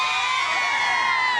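An outdoor crowd at a live TV morning show cheers and shouts together in a bright, sustained roar, with whoops and excited voices blending throughout.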